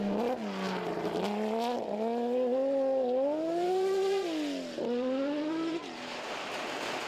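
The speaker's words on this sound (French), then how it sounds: "Je vais juste me taire et vous laisser le plaisir du bruit de cette voiture." A BMW rally car on a special stage of the Sezoensrally, the engine loud and close, revving up and down through the gears with steady rising and falling pitch.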